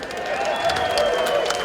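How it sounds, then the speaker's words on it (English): Street crowd at a Straight Pride Parade clapping and cheering in a short continuous burst, with voices blended into the applause. "Give me a big applause right there in the street."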